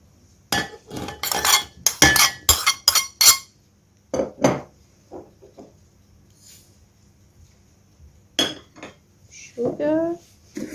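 Chopped apples are mixed with sugar and cinnamon in a bowl for an apple cake. A spoon clinks and scrapes against the bowl in a quick burst of irregular knocks, then a few scattered taps follow with pauses between them.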